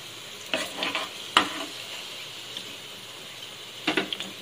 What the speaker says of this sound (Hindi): फ्रेंड्स हमारे आलू जो है वो फ्राई हो चुके हैं